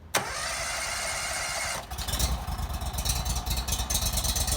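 A pressure washer's small petrol engine catches on the pull start with a sharp burst, then settles into a steady, loud, close running rumble, with no voices.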